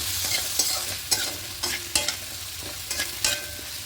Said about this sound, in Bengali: এটা ইলিশ মাছের মাথাগুলো দিয়ে দেব দিয়ে খুব ভালো করে একটু মিশিয়ে নেব আলুর সঙ্গে